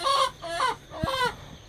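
A rooster crows and clucks in a few short, close bursts, with brief pauses between the calls.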